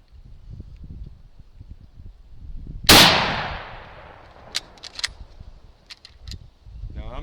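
A single sharp, loud German K98 bolt-action rifle shot cracks outdoors and decays with a ringing tail, followed by metallic clicks of handling, with background wind and rustle before and after.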